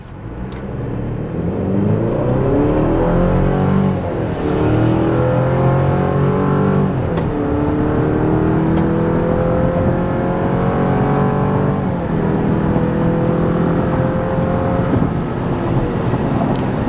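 A 2024 Chevy Colorado TurboMax pickup truck accelerates hard during a performance run, its engine note climbing steadily through gears with shift dips, loud and continuous with wind rush, no talking.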